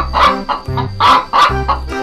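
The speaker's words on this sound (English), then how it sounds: "Chicken." A loud, close chicken clucks in a run of about six short, throaty calls with brief gaps, heard alone without talk.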